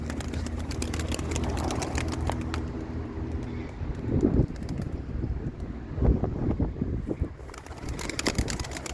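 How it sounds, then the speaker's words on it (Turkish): Steady gusty wind noise buffets the microphone throughout, with low rumbling and occasional bird sounds in the background. "Vallahi çok rüzgar var."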